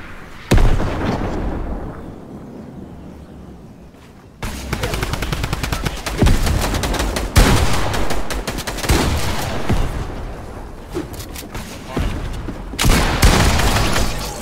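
Rapid drum gun bursts in a Fortnite squads endgame at Weeping Woods, loud repeated volleys of automatic fire with brief pauses between strings of shots.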